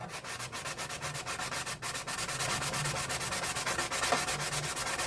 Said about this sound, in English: You don't want to sand too much of it, because if you sand too much of it, you won't get your line that you want.